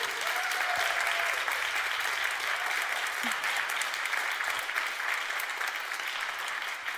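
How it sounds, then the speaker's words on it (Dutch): A lecture-evening audience gives warm, sustained applause, a dense patter of clapping hands that stays even and fairly loud throughout. "U heeft al een heel warm applaus gegeven, maar ik ga u vragen om dat nog een keer te doen."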